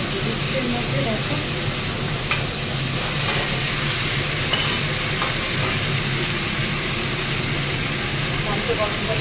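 Fish pieces simmering in a spiced masala in a home kitchen give a steady, even sizzle with occasional small clinks, and a low engine-like hum runs underneath throughout.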